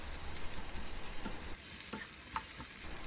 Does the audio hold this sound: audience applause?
no